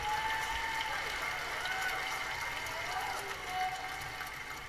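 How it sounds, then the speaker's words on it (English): Audience applause fills a room at a Mandalorian fan panel, a steady wash of clapping held at even volume throughout, with a voice carrying faintly over it and a few whistle-like tones drifting above. "So a huge applause for all of you in this room"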